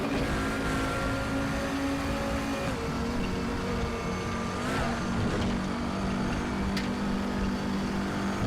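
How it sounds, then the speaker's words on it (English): An Audi TT RS VLN race car lapping the Nordschleife in the RaceRoom racing game, its engine droning loudly and continuously with gear shifts and a wavering pitch as it goes light and struggles for traction. "You hear the car get light and struggle for traction."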